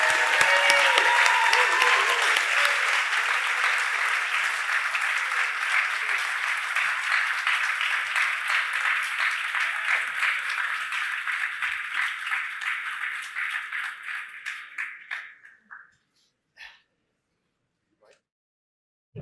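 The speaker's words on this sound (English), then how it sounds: "please give our 2022 honorees a hearty welcome and a big round of applause" Loud, dense audience applause welcoming 2022 honorees at a science gold medal gala, sustained for about fifteen seconds before thinning to a few scattered claps and fading into silence.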